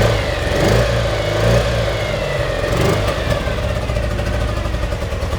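A 1975 BMW R90S motorcycle engine runs close and loud, with a low steady throb and a few gentle swells of revving early on before it settles into an even idle.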